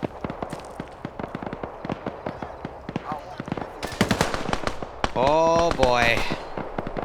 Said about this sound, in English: 50 cal is tearing through this building.